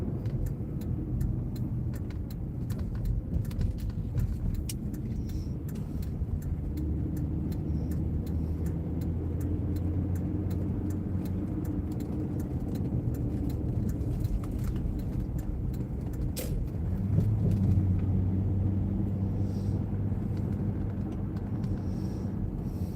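A car driving along a road during a storm chase, a steady low engine and tyre rumble heard from inside, continuous for over twenty seconds with a slight swell near the end.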